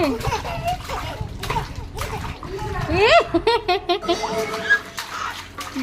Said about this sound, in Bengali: দেখো দেখো জল দিয়ে দেখো সব জল ফালিয়ে দিচ্ছে।